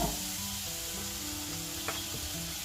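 Meatballs fry in a pan with a steady, moderately quiet sizzle, punctuated by a light scrape or clink as they are stirred.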